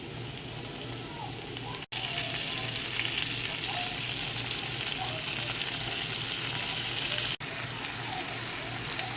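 Cabbage frying with onions in a pan for fried cabbage, a loud, steady sizzle that fills the whole clip, broken by two brief dropouts.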